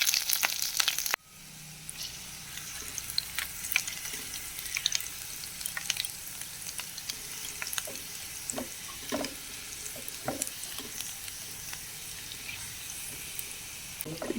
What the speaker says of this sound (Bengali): আদা কুচি, রসুন কুচি, লঙ্কা কুচি দিয়ে নাড়াচাড়া করে নেব।